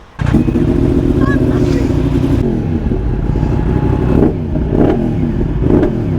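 A 2023 Yamaha MT-10 SP sport motorcycle engine starts up and idles loudly close by, then is revved in several sharp bursts that rise and fall.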